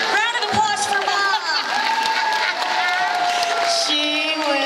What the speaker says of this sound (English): Round of applause for Mom!